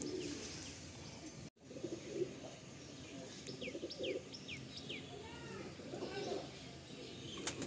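Madrasi pigeons coo softly and repeatedly among scattered bird chirps and tweets, with steady low background noise throughout.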